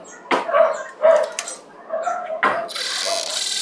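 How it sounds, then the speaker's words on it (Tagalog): A dog barks several times in sharp bursts, fairly close, followed by a hissing rush of noise at the end. "Maingay din naman ang aso nila."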